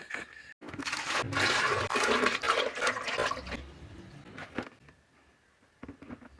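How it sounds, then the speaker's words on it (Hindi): Water gushes into a bucket in a steady, loud rush for several seconds, then tapers off into quieter trickles and splashes, set up for testing a homemade automatic water heater. "ये मेरे पास एक बाल्टी है, इसमें पानी डाल लेता हूँ।"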